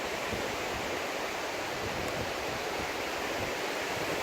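Waves washing steadily onto the shore of Lake Peipus in Estonia, a continuous broadband wash with no distinct breaks and no voices.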